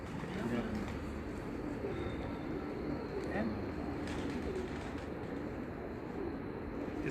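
Pigeons coo softly on a rooftop loft, a low, repeated throaty murmur that runs steadily beneath faint background talk and ambient hum.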